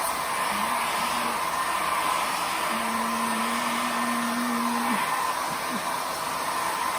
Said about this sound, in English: Get the hair dryer out.